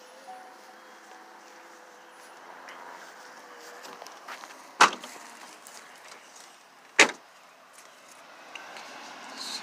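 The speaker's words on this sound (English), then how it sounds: "You want to close so you can use it with the remote," Power tailgate of a 2020 Chevrolet Suburban LT closing by remote, a low motor hum followed by two sharp loud thuds as it shuts and latches, no talking.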